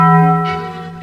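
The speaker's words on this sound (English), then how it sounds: "Scott, that was the Liberty Bell, not the Taco Bell." The Liberty Bell rings with one loud, close metallic strike whose tonal overtones hang and slowly fade.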